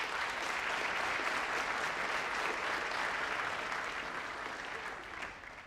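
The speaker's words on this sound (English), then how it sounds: "So I'd like to give a big round of applause for Richard and Tom" A room full of people claps steadily, a dense wash of applause that holds level and then tapers slightly near the end.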